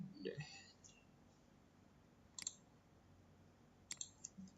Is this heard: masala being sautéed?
no